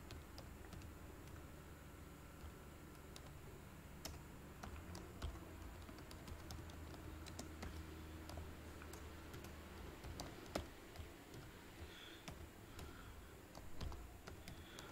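Typing on a computer keyboard, a steady stream of quick, light key clicks with occasional louder taps, close and continuous under faint room hiss.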